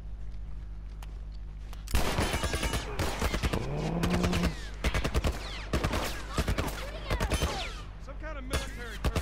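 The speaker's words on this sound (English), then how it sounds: "Some kind of military turret." A military turret fires in the video game The Last of Us, with dense bursts of rapid gunshots and loud cracks. The shots pulse repeatedly over a steady low hum, and a voice briefly speaks over them.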